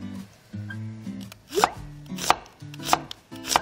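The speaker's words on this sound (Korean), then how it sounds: "양파, 채를 썰을게요." A knife julienning an onion on a cutting board, with repeated crisp chopping strokes in short bursts, close and loud with no talk.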